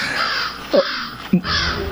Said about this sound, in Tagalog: Malaking uwak!